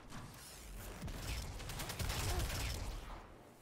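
Sunshot hand cannon fire in Destiny 2, a rapid burst of sharp shots clustered over a few seconds, moderately loud against game ambience, with no voices.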